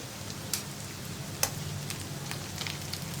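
Chicken pieces frying in hot oil for Payyoli chicken fry, a steady dense sizzle with a few sharper crackles and spits, close and even throughout.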